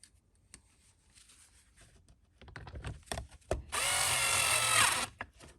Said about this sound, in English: If you do choose to use a drill or screw gun, set it to the lowest torque setting.